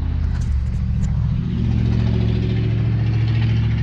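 A 1998 Jeep Cherokee XJ engine runs loudly and steadily up close with no muffler, giving a deep, rumbling idle that swells slightly about halfway through and then holds, with no talking.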